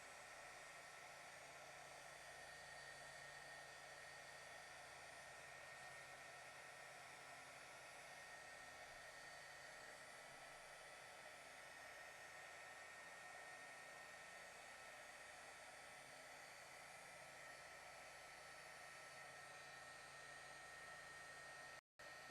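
A heat embossing tool blows hot air steadily over a stamped card, a constant, even roaring hiss like a hair dryer that runs unbroken for over twenty seconds and cuts off abruptly at the end.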